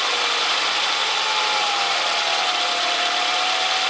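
A car engine idles steadily with its AC compressor running, a loud, even broadband whir with a faint rising whine partway through, close up and with no talk.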